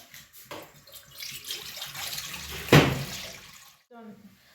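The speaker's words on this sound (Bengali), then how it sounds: "কড়াইতে তেল পানি দিয়ে দিলাম" Oil and water poured into a wok while making kuli pitha, a continuous watery pour and splash with a loud surge near the end before it stops, followed by a brief quieter sound.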